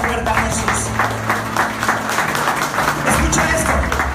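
A church congregation applauds together in a steady wash of clapping through a sermon on the resurrection, with an organ or keyboard note held underneath and a voice briefly audible.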